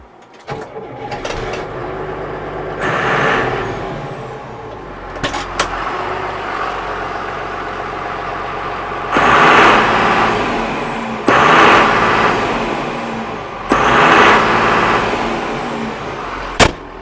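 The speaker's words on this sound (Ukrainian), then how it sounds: "Зараз покажу вам як він стартує, як запускається двигун." A John Deere 6900 130 hp tractor's diesel engine cranks and catches, then settles into a rough, rumbling idle, with the revs swelling louder three times.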